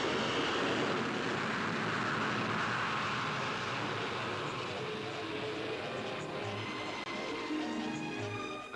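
A Vickers Super VC-10 jet airliner flies past with a loud, continuous broadband jet roar that holds steady for the whole stretch and fades slightly toward the end, heard alone without talk.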